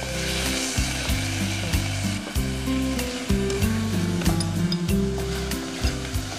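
Vegetables fry in a pan for millet khichdi, a close, steady sizzle broken by repeated scraping and stirring strokes against the pan, with no talk.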